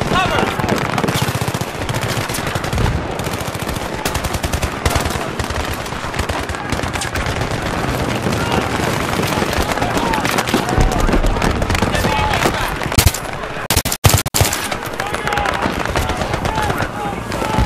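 Sustained automatic gunfire from the Battlefield 3 campaign, dense rattling bursts running almost without pause, with a sharp dropout and a few louder cracks near the end and voices shouting underneath.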